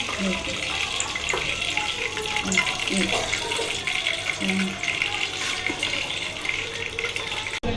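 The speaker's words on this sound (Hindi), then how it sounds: "देखिए फ्राई होना शुरू हो गया हमारा फ्रेंच फ्राइज़" Potato chips for crispy homemade fries hiss and bubble steadily in hot oil, a continuous, watery-sounding frying noise at moderate volume, with someone talking intermittently over it.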